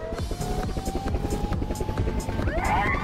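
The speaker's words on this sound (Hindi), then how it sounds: "डैडी, एक हेलीकॉप्टर भेजो अभी।" A cartoon sound effect of a helicopter arriving, a steady rotor hum with rhythmic pulsing and a rising whine near the end, loud and close with no talk over it.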